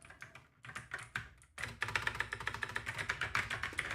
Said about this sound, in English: This is a Razer mechanical keyboard.